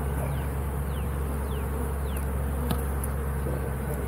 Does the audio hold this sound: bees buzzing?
yes